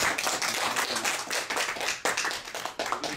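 A seated audience gives a warm round of applause to welcome a pastor to the stage at a talk, with dense, steady clapping that stays close and loud throughout with no voices.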